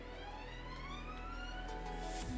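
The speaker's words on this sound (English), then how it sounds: "The sirens go off as we realise that we've actually finished building something." Sirens in the Minecraft video game, faint rising wailing tones layered over a low hum, continuous for a couple of seconds.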